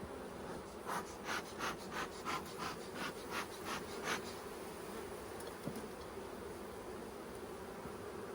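Honeybees drone in a steady, faint buzz around an open hive during a hive split, with a series of short rhythmic rubbing or scraping strokes early on and no voices.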